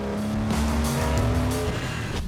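A loud, raspy Porsche 911 exhaust note roars at close range under steady driving on the road, its engine tone rising and holding with a gritty rumble.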